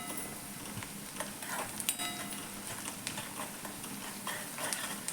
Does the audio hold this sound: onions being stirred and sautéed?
yes